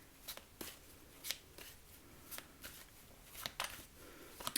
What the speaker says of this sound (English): I feel like we still need a little bit more of a shuffle